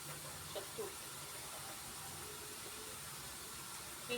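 Potatoes fry in hot oil in a home kitchen while iftar is cooked during Ramadan. A soft, continuous sizzling hiss holds steady throughout, with a few faint clinks.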